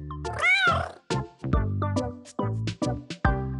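A cartoon cat meows in a children's English-learning video game, one long, rising and falling meow followed by a quick run of short, close chirpy mews and clicks, with no talk over it.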